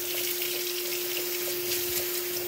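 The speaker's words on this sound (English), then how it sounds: "Let me wash my hands." Steady broadband hiss of tap water running into a kitchen sink while hands are washed during chicken breast prep, continuous and fairly close, with a constant tonal hum underneath and no talking.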